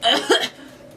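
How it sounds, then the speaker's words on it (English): A single short, oddly voiced cough, close and abrupt, fades quickly into quiet. "That was the weirdest cough ever."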